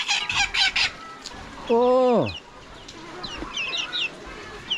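Backyard chickens, hens and roosters kept at a rural Thai home, give bursts of clucking and one drawn-out squawk amid outdoor background noise, with a brief voice exclamation.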